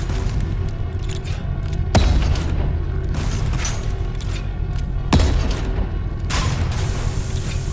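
In the Volcanoids video game, two sharp explosive booms go off against a constant mechanical rumble as a turret is blown apart, with a rising hiss near the end.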